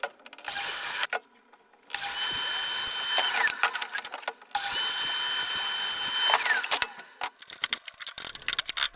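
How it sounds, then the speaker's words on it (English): A domino joiner cuts mortises in an MDF divider in a few loud, whining bursts of several seconds each, with quiet gaps and clunks of the tool being positioned between cuts, close up. "then cutting the mortises in the divider"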